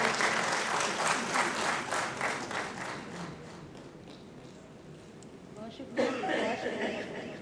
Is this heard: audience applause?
yes